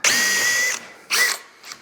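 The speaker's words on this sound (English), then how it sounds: "stick my point of my Forstner bit directly in that hole, and then it will easily drill out the rest" A power drill with a Forstner bit whines for nearly a second as it bores through wood, then a shorter burst follows and a faint brief one after.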